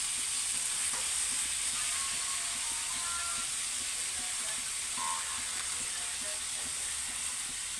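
Cumin, turmeric and chilli powder with spice paste frying in a pan for chicken leg biryani, giving a constant soft hiss with faint scraping of a spatula stirring throughout.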